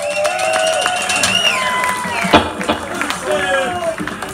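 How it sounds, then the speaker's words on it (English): Concert crowd at a rock event cheering and clapping amid whoops and shouted voices, a lively, fairly close mix of applause and calls with one sharp loud burst midway. "I think you should all give yourselves a round of applause for being so fantastic"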